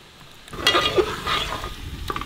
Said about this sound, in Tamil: 3 தக்காளி நார்மல் சைஸ் எடுத்து வச்சிருக்கேன், அப்படியே போட்டுக்கலாம்